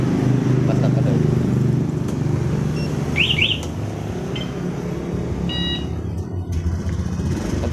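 A Honda Beat scooter with a newly fitted Smartey alarm idles with a steady low engine rumble, a couple of short alarm chirps sounding over it partway through.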